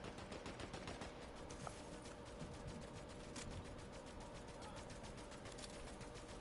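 Automatic weapon spray in Fortnite: a long, steady stream of rapid rattling shots, fairly faint and somewhat distant, continuing evenly throughout with no talk.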